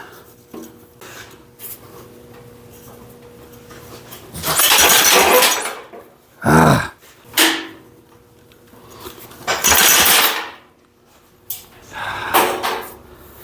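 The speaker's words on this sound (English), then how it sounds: "It's trying to start. Man, it's just not wanting to bust off." Old abandoned Wisconsin small engine being pull-started by rope, several loud rasping pulls with sputtering bursts in short separated strokes over a faint steady background hum, no talk.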